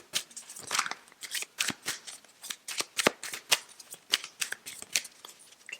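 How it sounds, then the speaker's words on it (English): Tarot cards being shuffled by hand, a rapid series of crisp riffling and flicking bursts in an uneven rhythm, close and fairly quiet with no talking. "I'm going to wait for the first card to fall or flip"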